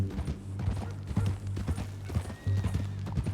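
Hooves of a horse from Red Dead Redemption 2 clop in a steady run, with low rumbling game ambience and a faint whinny, no talk over it.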